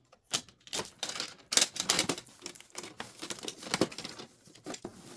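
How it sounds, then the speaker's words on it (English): Protective tape being peeled off a new Epson EcoTank 2800 printer, heard as close, irregular bursts of sharp ripping and crinkling separated by short pauses, with no talking. "Just pulling all the tape from every spot that I see."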